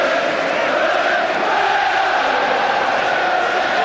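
Thousands of fans in a football stadium at a Leeds game versus Prague keep up a continuous roar and cheer as a Mexican wave goes round, a broad, even crowd din heard from a distance.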